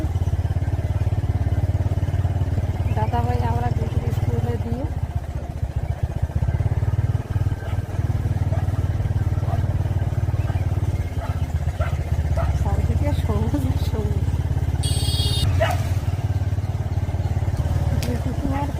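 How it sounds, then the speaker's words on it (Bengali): Steady motorcycle engine drone with road rumble while riding, a voice talking over it and brief clatters along the way. "বন্ধুরা আমরা বাইকে উপরে আছি"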